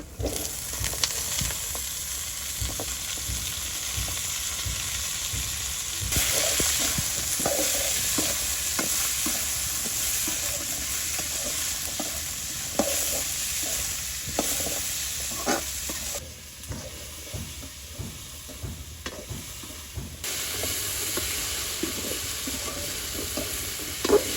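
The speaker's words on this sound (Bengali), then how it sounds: "আলুর জন্য তেল দিয়ে দিছি, উঠে রাখা আলুগুলো দিয়ে দিচ্ছি।" Potatoes frying in oil in a village kitchen in Hatiya, a steady loud sizzle running throughout with frequent stirring scrapes and occasional utensil taps close by.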